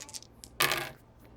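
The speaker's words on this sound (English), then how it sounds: "he's going to be firing on that Epsilon pilot with 1 hull point left. It's range band 2, so he's going to be throwing 3 dice." Three dice thrown onto a tabletop during a Star Wars X-Wing miniatures battle: a few light clicks, then a sharp clattering burst as they land and settle, close and fairly quiet.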